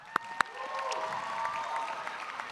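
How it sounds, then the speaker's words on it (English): Applause from a graduation ceremony crowd, a couple of sharp claps up front followed by a sustained, moderate wash of clapping with faint cheering in a large echoing space. "Let's give one more round of applause"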